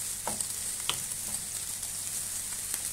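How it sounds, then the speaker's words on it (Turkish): Peppers and onions sizzle in a frying pan, a steady close hiss of hot oil with occasional soft stirring scrapes and small pops. "Şu anda hemen biberlerimizi atalım. Biberlerimiz de kızarsın soğanlarla."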